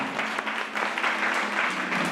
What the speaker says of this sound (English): Now clap hands for God who made you so.